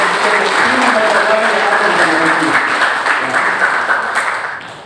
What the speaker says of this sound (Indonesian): Mari sekali lagi berikan tepuk tangan yang meriah untuk para komunitas agama